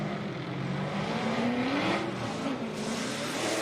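Formula Drift cars racing toward the finish line, a loud, sustained engine roar rising and falling in pitch as they drive hard, with no voices.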